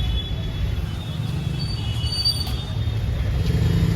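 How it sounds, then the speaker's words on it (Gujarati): The Saurashtra Mail train at Mumbai Central station produces a continuous low rumble of rolling railcars, with a thin high wheel squeal drifting in and out above it. No voices are heard. "અહીંથી આપણે 9:30 વાગ્યાની ટ્રેન છે, પછી સીધા દ્વારકા, સૌરાષ્ટ્ર મેલ"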